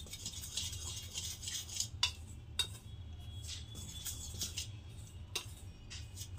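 A utensil mixes garlic paratha batter ingredients in a bowl, giving quiet, irregular scraping and light clinking taps against the side, close and soft.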